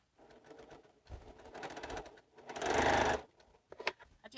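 A sewing machine stitching fabric in short bursts of rapid needle chatter, starting and stopping, with a louder sustained run in the middle. Nearby and fairly quiet, with no talking.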